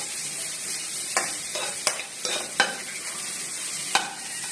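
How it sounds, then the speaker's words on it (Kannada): Onion and green chilli fry in oil with mustard seeds and cumin in a bowl, giving a steady crackling sizzle broken by several sharp scrapes and clinks of a stirring spoon, close and without talk. "ಬೌಲಲ್ಲಿ ಎಣ್ಣೆ, ಸಾಸಿವೆ ಮತ್ತು ಜೀರಿಗೆ ಹಾಕಿ ಮತ್ತು ಈರುಳ್ಳಿ ಮೆಣಸಿನಕಾಯಿ ಹಾಕಿ ನೀಟಾಗಿ ಚೆನ್ನಾಗಿ ಫ್ರೈ ಮಾಡ್ಕೋಬೇಕು"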